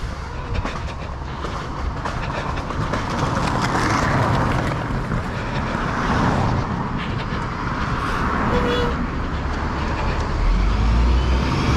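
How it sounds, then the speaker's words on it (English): A van rolls past outside as a steady, rumbling drive-by, with road and engine noise building and fading over several seconds, close and fairly loud, and no talking. "That's a cool van."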